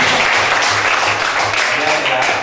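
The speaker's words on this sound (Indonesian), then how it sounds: "Beri tepuk tangan yang meriah." Loud, steady applause from a classroom of students at the end of a lesson, dense clapping filling the whole stretch without a break.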